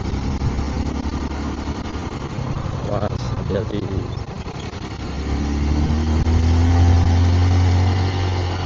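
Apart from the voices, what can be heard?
manual clutch motorcycle engine running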